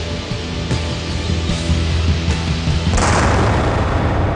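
A cannon fires gunpowder with a deep boom that swells into a rolling, rumbling burst late in the clip, heard alone without voices.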